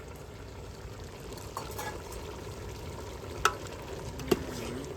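Oil frying in a pan while chicken curry cooks, giving a quiet, steady sizzle with a couple of brief sharp clinks of utensils against the pan, no voices.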